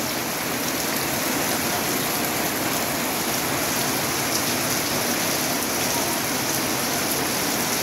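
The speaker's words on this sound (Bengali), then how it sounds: "শহর খালি সেই বৃষ্টি হচ্ছে।" Steady rain pouring down over a town in the morning, a dense, even wash of falling water with no pauses, close and fairly loud throughout.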